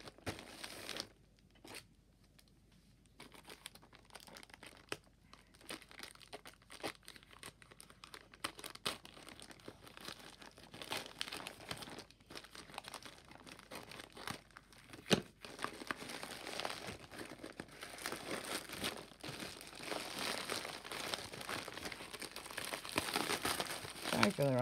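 A package crinkles and tears open up close, with bursts of plastic rustling and crumpling that grow louder and busier toward the end, while someone talks now and then.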